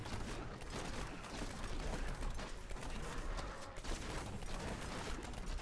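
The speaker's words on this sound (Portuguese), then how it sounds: "E o tiro múltiplo come solto." Rapid bursts of projectile fire from the Demon Hunter's Multishot skill in Diablo 3: Reaper of Souls, fighting in a level 90 greater rift, form a dense, continuous barrage of crackling impacts with no talk.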